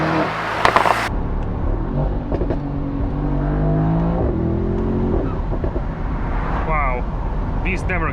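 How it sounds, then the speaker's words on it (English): A Mercedes-AMG SL 63 with a 585-horsepower V8 bi-turbo pulls hard, a loud close rising engine note through the middle, then a shift and short turbo blow-off hisses near the end, with a person talking over it. "This is the V8 bi-turbo, 585 horsepower."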